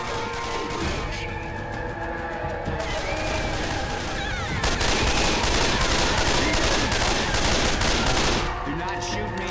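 Dense, sustained gunfire in Left 4 Dead, rapid automatic bursts blending into a continuous fusillade with crashes, loud and close, with players talking underneath.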